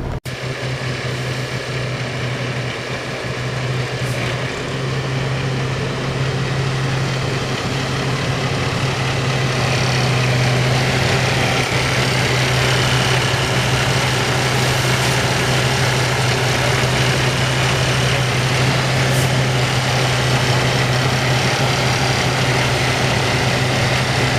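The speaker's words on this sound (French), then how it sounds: "je vais pouvoir placer mon tracteur devant la SMI" A farm tractor's engine runs steadily at close range while the tractor is moved into position for hitching, giving a continuous low drone with a constant hum throughout and no talking.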